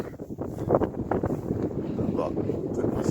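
Steady outdoor wind buffeting the microphone on a mild, partly cloudy day, a broad rushing roar that fills the whole clip, with voices talking over it.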